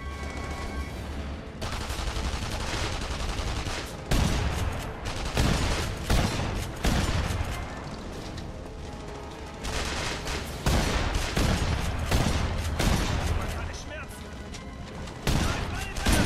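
Gunfire in The Saboteur, repeated loud shots and bursts over a steady roaring background, sharp cracks scattered through the scene with someone talking over the action.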